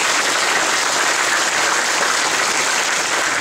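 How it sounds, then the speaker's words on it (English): Sustained loud applause from a church congregation of parishioners and guests at a priest's 25th ordination anniversary celebration, steady dense clapping filling the whole stretch with no voices over it. "Let's give them a big round of applause."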